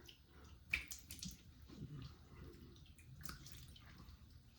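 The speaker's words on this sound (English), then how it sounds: "now I'm going to rinse with cold water." Cold tap water runs for a rinse after a close shave of upper-lip stubble, a faint, steady splashing flow with a few small drips, heard alone without talk.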